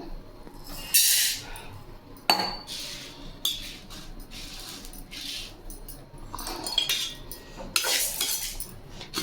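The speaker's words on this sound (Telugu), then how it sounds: "జొన్నల్ని ఇలా వేయించుకోవాలి." Sorghum grains are roasted in a pan, giving scattered metallic scraping and clinking as they are stirred, with bursts of crackling hiss between quieter moments, fairly close and moderately quiet.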